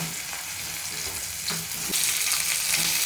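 Capsicum sizzles and crackles in a hot pan during cooking for a mushroom chilli dish, a steady broadband hiss with a few stirring knocks and a louder surge partway through, no voices.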